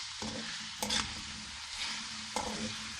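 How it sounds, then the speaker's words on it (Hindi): Goat meat fries in hot oil with a steady, close sizzle, broken by a few brief stirring scrapes of a spatula in the pan. "अब इसको इस तेल में अच्छी तरह भूनेंगे।"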